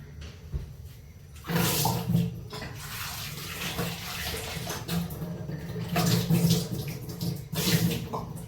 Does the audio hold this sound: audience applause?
no